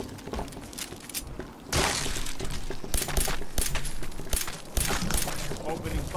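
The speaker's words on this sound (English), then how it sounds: "Opening fire." Gunfire in the Fallout 4 video game during a Minutemen fight at Taking Independence, dense, loud crackling bursts and sharp reports that pick up partway through and continue steadily.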